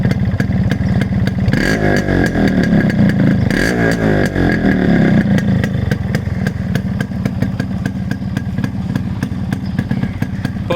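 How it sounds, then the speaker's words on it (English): A stock Yamaha RX 100 two-stroke motorcycle engine is revved loudly and close, with a rapid crackling idle that rises into a few sharp throttle blips before settling back. "The stock RX sound."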